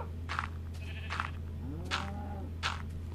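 Sheep in the video game Minecraft bleat four times, short wavering baas spaced a little under a second apart, over a steady low hum, with no talk.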